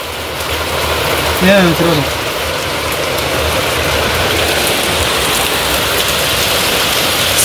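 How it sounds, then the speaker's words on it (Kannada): Broad, constant hiss of rain throughout, loud and near, with a brief voice rising over it early on. "ಸೂಪರ್ ಮಳೆ ಅಲ್ಲ."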